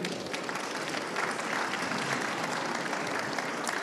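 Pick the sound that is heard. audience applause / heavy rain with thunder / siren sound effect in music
audience applause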